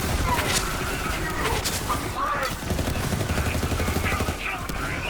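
Assault rifle fire in the video game Borderlands 3, steady rattling bursts with booming impacts that run the whole time alongside game effects, and a voice talks over part of it.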